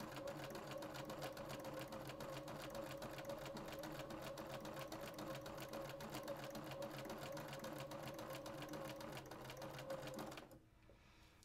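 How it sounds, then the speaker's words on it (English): A sewing machine stitches quilt units along diagonal lines in rapid, steady chain piecing, running loud and continuous for about ten seconds before stopping abruptly into near silence. "I'm going to begin sewing on those lines"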